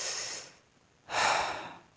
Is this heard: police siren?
no